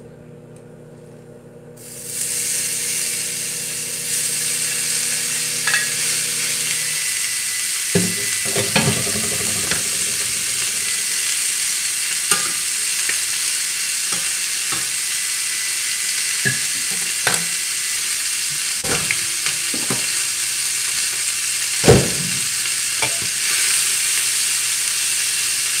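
Cheesesteak filling and garlic hit a hot pan and start a loud, steady sizzle that lasts throughout. Scattered clanks of stirring sound over it, and no one talks.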